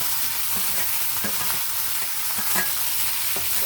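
Tomato, onion and curry leaves going into a hot pan, giving a loud, dense, continuous sizzle with a few stirring clinks over nearly four seconds, no talking.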